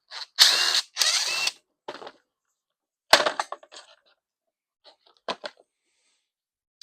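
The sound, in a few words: taking the cover off a Briggs and Stratton lawn mower engine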